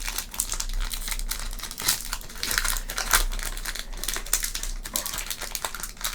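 Crinkling plastic wrapper of a Pokemon Obsidian Flames booster pack being torn open: close, continuous rustling and crackling with sharp crinkle peaks, no speech.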